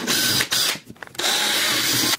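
A power drill bores a hole into an arcade button controller case, a close, loud whine that runs, briefly stops with a few clicks, then resumes steadily.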